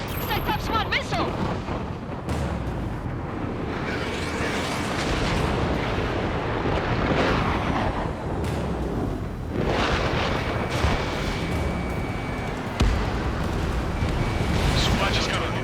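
Missile explosions and booming blasts in the jet combat game Ace Combat 7 rumble repeatedly over a dense roar of engine noise, with radio voices talking throughout.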